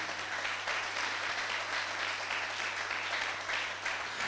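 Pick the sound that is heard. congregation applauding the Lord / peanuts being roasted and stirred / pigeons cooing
congregation applauding the Lord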